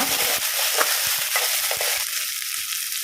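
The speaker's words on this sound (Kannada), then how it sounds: "ಶುಂಠಿ ಬೆಳ್ಳುಳ್ಳಿ ಪೇಸ್ಟಿನ ಹಸಿ ವಾಸನೆ ಹೋಗುವವರೆಗೆ ಇದನ್ನು ಫ್ರೈ ಮಾಡುವ" Onion with ginger garlic paste fries in a pan with a loud, dense, continuous sizzle, close up, with a few soft stirring knocks underneath.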